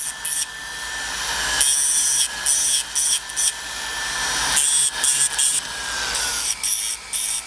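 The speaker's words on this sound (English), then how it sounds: "You can see how quickly you can take everything down with your sanding disc" A rotary sanding disc shapes a small earring piece in repeated bursts, a high grinding whir that rubs in and cuts out every second or so, close and steady.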